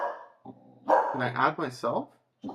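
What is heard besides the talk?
dog barking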